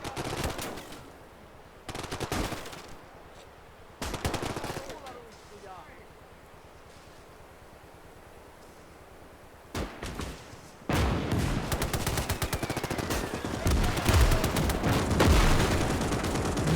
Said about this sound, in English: Some kind of machine gun. Maxim or something.